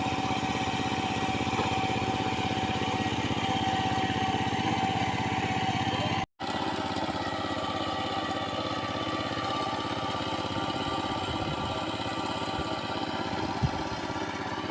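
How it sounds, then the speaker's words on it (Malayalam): A power tiller churns and levels wet mud in a flooded paddy field, its small engine droning steadily and loudly throughout with a brief cut-out midway. "നമ്മുടെ ഈ കണ്ടത്തിലെ ചേറ് ട്രില്ലർ അടിച്ച് സ്മൂത്താക്കണം"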